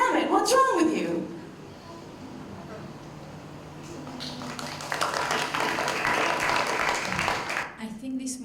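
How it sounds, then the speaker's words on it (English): Audience applause at a live performance at the ConnectIL conference rises partway through as a dense, steady wash of many hands clapping. It follows a brief voiced passage near the start and holds loudly to the end. "people in the audience are clapping"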